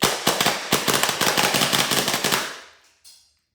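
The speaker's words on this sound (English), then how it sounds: "So let's plug it up, get some BBs in the magazine, and see how it shoots." Airsoft Gate ASTER with a TSG binary trigger fires BBs in a rapid string of sharp, close cracks lasting about two and a half seconds, then one lone shot after a brief pause.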